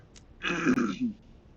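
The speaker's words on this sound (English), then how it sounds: "here the assistant coughs significantly" A narrator's assistant gives a brief, deliberate throat-clearing cough, a single short burst lasting under a second, heard close and alone between stretches of narration.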